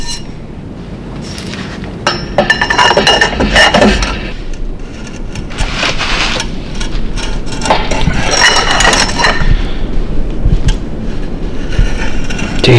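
A socket wrench ratcheting against a tight nut held with blue Loctite: loud, continuous metallic clicking and clanking up close, with strained effort and rattling throughout.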